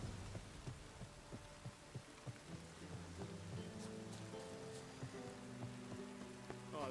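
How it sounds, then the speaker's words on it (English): Rain in the video game The Witcher 3: Wild Hunt, a soft steady patter of drops under low droning tones, faint and continuous with no voices. "I like rain."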